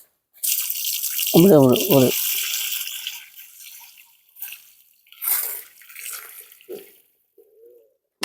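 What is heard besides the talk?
water poured onto soil around arecanut tree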